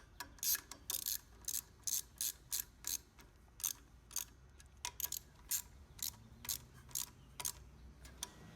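A ratchet tightening the two bolts that secure a wiring cover on a frame, with short, evenly spaced bursts of clicking repeating steadily, close but quiet, with no talk.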